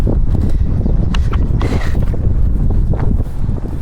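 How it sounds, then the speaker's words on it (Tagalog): Strong wind buffets the microphone in a loud, continuous roar, with faint knocks and splashes beneath it, beside a river in Taiwan. "lakas na ng hangin"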